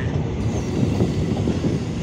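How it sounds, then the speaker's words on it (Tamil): Steady rumble of a train slowing down on the Tea Garden Express, Karaikal to Palakkad, wheels clattering softly under a constant low roar. "ட்ரெயின் ஸ்லோ பண்ணிட்டாங்க,"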